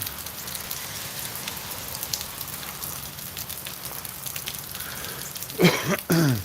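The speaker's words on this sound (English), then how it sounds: "It's still raining." Steady rain falls outdoors as a constant broadband hiss of drops pattering on surfaces, with a couple of louder bumps or handling noises near the end and no talking.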